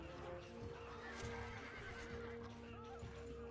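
Horse archers in a medieval strategy game whinny and neigh over clip-clopping hooves, set in a dense, busy battle din that holds steady at a moderate level throughout.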